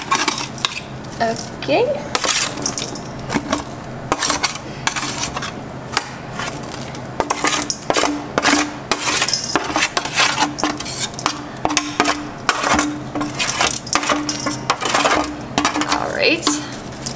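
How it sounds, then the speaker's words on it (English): Chopped vegetables for a vegan veggie jumble get scraped into a big bowl. A utensil clatters and scrapes against the dish in quick repeated strokes, close and fairly loud, and one brief spoken word is heard. "Scrape it in a big bowl"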